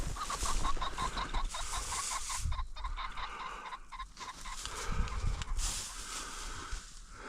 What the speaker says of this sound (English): And then to come across this cackling rooster made it all worthwhile.